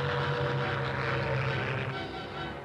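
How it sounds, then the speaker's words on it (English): A WWII-era propeller aircraft driven by Rolls-Royce Merlin engines, like the Spitfire and Hurricane, drones steadily with a continuous mid-range engine hum that fades slightly toward the end. "Their engines powered most of the Royal Air Force planes, the Spitfires and the Hurricanes,"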